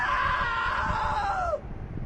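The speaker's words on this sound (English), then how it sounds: "Now that was a great scream." A long, loud, wavering scream in the video game What Remains of Edith Finch rises and falls in pitch before sliding down and breaking off, with a low room murmur underneath.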